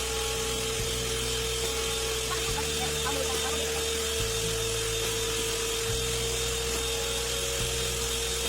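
Electric mixer beating butterscotch cake batter, a loud, continuous motor whir that shifts in pitch every couple of seconds as the beaters work the mix.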